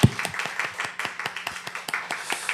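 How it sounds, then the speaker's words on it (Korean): A church congregation at a Sunday service claps in welcome for a newly registered member, a brisk, steady run of handclaps, fairly faint and slightly distant, with no talking over it. "이 시간 소개할 때 큰 박수로 환영해 주시면 감사하겠습니다"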